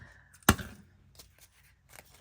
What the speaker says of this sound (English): I might be able to fussy cut around that and use it for something